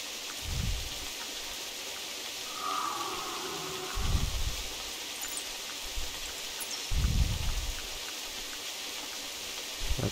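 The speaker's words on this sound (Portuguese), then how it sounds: "Porra, essa chuva atrapalhou, hein?" Rain falls in theHunter Classic as a steady, faint, soft hiss throughout, with a few low thumps at intervals.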